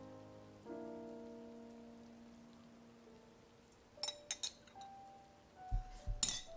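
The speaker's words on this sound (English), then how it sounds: "Isn't rain amazing in this game?" Rain falls in the video game Zelda: Tears of the Kingdom, with a soft steady patter under a held musical tone and a few bright, close clinking drops toward the end. Nobody speaks.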